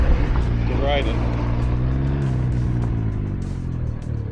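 Three-wheeled vehicle engine droning steadily while riding, close and continuous, with rising and falling engine tones and voices talking over it.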